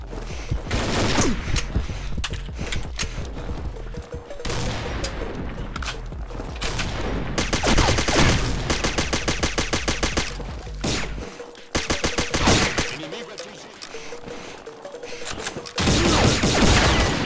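Rapid automatic gunfire from the Combat Arms video game, including ARX-160 rifle bursts in a capture-the-flag match, loud and sustained with dense volleys, brief pauses and some electronic tones.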